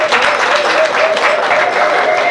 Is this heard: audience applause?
yes